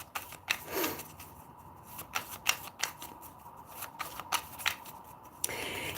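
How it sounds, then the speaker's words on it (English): A tarot card deck being shuffled by hand, close by: a quick run of crisp riffling flutters and papery slaps in uneven bursts, fairly quiet, with no talking. "I want to get a card from this deck."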